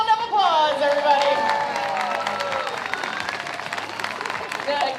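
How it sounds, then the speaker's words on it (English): Crowd clapping and cheering at a river regatta event, a broad wash of applause over an amplified announcer voice, with dog-show-style commentary underneath. "Let's send her out with a nice big round of applause"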